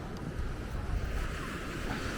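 Sea surf rolling onto a Philippine beach after morning rain, a steady broadband wash of waves with light wind noise on the microphone, continuous and fairly loud with no talking.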